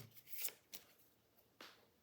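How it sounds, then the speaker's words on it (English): Initiative cards for a board game being shuffled on a tabletop, several quiet riffling bursts with short pauses between them, faint and close with no talking. "I'm going to shuffle the initiative order."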